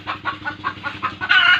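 Several chickens cluck in a steady repeated rhythm, a burst of calls every fifth of a second or so, with a louder, denser cluster near the end, close by and with no talk over them.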